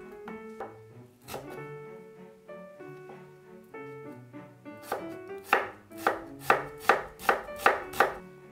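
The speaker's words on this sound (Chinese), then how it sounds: "将洋葱切成薄片" A knife slices an onion thinly, starting with spaced cuts under soft background tones, then a fast, evenly paced run of crisp chopping strokes on a board.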